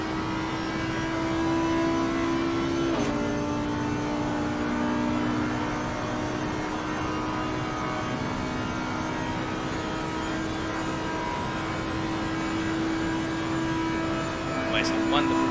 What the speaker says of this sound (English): you can listen to the sound of the V10 engine